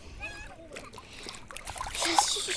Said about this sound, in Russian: Сейчас я чуть-чуть в море перейду.